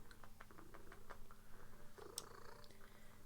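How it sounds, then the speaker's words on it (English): A cat purrs steadily and fairly loudly close by, a continuous rumbling purr with faint light ticks and clicks over it and no talk. "She purrs so loud."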